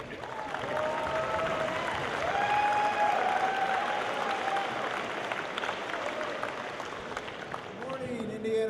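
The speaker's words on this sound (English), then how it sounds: "If you maybe want to cheer a little loud for our judges, please welcome Andrew Dill" A school robotics competition audience at an opening ceremony applauds and cheers for a guest judge, a loud sustained wash of clapping with scattered whoops that tapers off near the end as a voice begins.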